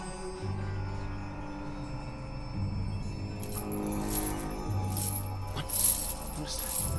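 Metal chains rattle and clink in irregular bursts over a low sustained drone, growing busier and louder toward the end, as in a ghostly scene from a Christmas Carol stage show.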